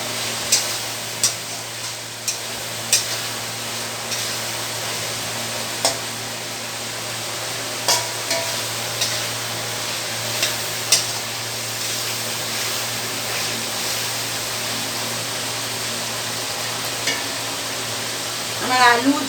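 Ridge gourd, potato and prawns sizzle as they are sautéed with dry spices in a pan, a constant close frying hiss punctuated by occasional clicks of a spatula stirring.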